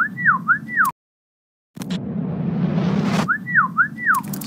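The sonic logo of the Storror parkour channel: a rising-and-falling whistled melody, a brief silence, then a swelling whoosh that builds before the whistled tune returns.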